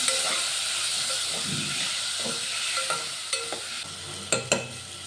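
Tomatoes fry in a pan with a steady steamy hiss and sizzle, broken near the end by a few sharp scrapes and knocks of stirring.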